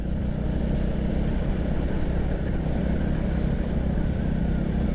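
A Raider motorcycle cruising along an afternoon road, its steady engine drone and wind rush continuous and fairly loud throughout, with no talking.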